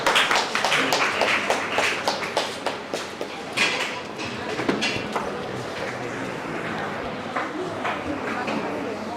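An audience at a career service centre event breaks into dense, fast clapping to welcome a speaker; the applause is loudest at first, then thins and softens toward the end, with a few voices mixed in.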